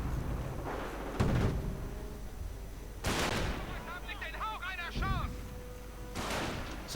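Gunfire in a World War II strategy game as an anti-tank half-track shells an observation post, with several heavy booming shots spaced a second or two apart and a short burst of whistling sounds between, under a commentator's voice.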